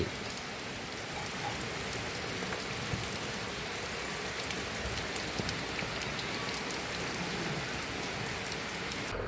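Heavy rain falls without letup on a village home during Diwali, a steady dense wash of drops and splashes with occasional louder ticks, constant and fairly close.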